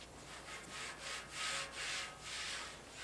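Polish is rubbed onto a cast iron wood stove in slow, repeated swiping strokes that rise and fall in soft scratchy waves roughly every half second, close and quiet.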